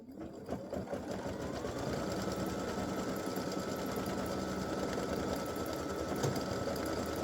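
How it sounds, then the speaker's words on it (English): An embroidery machine runs a satin stitch around a hat brim, its needle hammering in a steady, rapid, continuous mechanical rhythm, loud and close, with no talk. "Now it's time to do the satin stitch."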